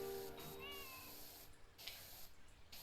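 A cat meows once with a short rising-falling call, heard over a steady in-game background hum from a power-washing game session, moderately close and fairly faint, with no talk.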